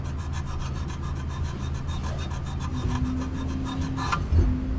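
A Scotch-Brite pad scrubbing the flame sensor of an older Rheem gas pack unit: rapid, even back-and-forth rasping strokes, close and steady, over a low mechanical hum, ending in a brief clunk.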